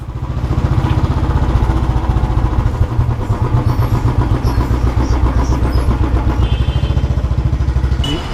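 A motorcycle engine runs steadily on an Indian road trip, a loud, close, even throbbing putter with a mechanical clatter that holds throughout.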